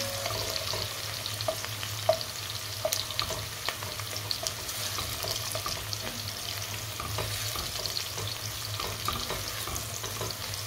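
Onions browning in a pan for chana pulao, fried toward golden brown, give a steady close sizzle. The frying runs unbroken and alone, and a spoon scrapes and clicks through it at scattered, irregular moments.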